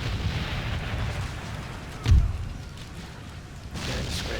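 A single heavy artillery boom from the video game Empire Total War rises over a steady rumble of battlefield noise, with a crackle of more distant fire toward the end.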